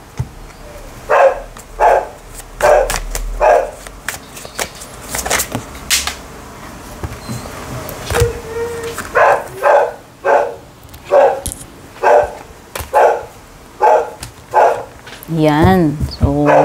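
A noisy dog barks over and over in a residential neighbourhood, with loud, sharp barks coming in rhythmic bursts through the clip, some clustered and some spaced apart, under someone speaking.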